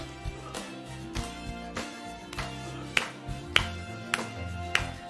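A church congregation at a Sunday worship service claps along to a song, steady rhythmic claps falling about every half-second under music, with a few sharper, louder claps standing out.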